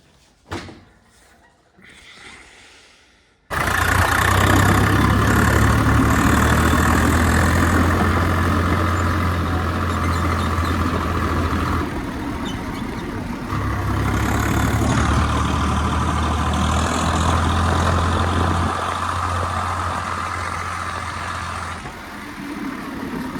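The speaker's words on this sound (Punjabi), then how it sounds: "ਚੱਲਦੇ ਆ ਆਪਾਂ ਕਰਦੇ ਸਵਰਾਜ ਨੂੰ ਸਟਾਰਟ" A Swaraj tractor engine cranks and catches after a few seconds of quiet clatter, then settles into a loud, steady diesel idle with a deep, throbbing rumble that shifts slightly in pitch.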